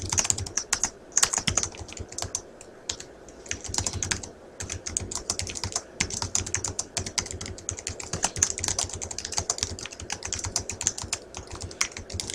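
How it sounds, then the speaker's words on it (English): Steady, rapid clicking of keys on a computer keyboard, close and continuous with brief pauses, no voices. "I'm just going to type a little bit here."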